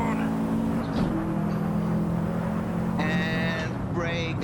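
Race car engine in Assetto Corsa, driven at full throttle down the second back straight at Bilster Berg, a steady loud drone with rising whine-like harmonics near the end, continuous and close throughout.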